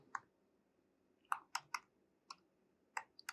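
Text being typed on a computer keyboard while working in After Effects: a handful of crisp, separate key clicks in an uneven rhythm, close and quiet against near silence.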